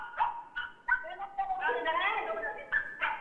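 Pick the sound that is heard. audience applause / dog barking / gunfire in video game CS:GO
dog barking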